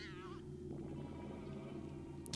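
Cat meowing in the video game Nine Witches: Family Disruption, one short wavering meow at the start over a low steady game background, fairly faint.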